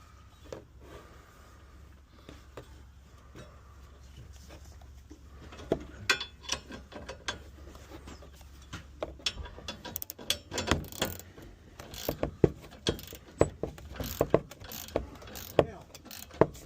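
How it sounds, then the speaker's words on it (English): A ratchet clicks rapidly in repeated bursts while a towbar's chassis bolts are tightened on a Ford Transit Custom, growing louder and more insistent toward the end, with metallic knocks and clanks in between. "it's final tighten on the chassis bolts"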